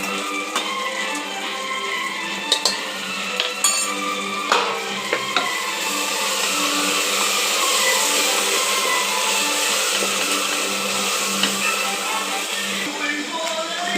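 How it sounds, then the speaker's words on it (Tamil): Yogurt sautéed in a pan with ginger-garlic paste for paneer biryani, a continuous sizzling hiss with light stirring scrapes and occasional clinks, steady throughout and without speech. "தயிர் போட்டு வதக்கிறேன்"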